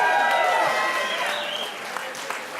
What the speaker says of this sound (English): Let's give a huge round of applause to thank our First Lady for all she does